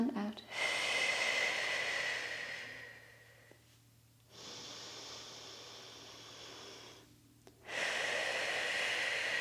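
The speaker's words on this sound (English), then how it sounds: "Let's just do 3 deep breaths." Three slow, deep breaths during a beginner Pilates session, each a long airy inhale and exhale that swells and fades, close and clear, with short quiet gaps between them.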